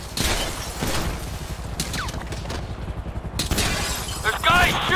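Gunfire in GTA V crackles in rapid bursts and scattered shots amid mission chaos, with people shouting and talking over it.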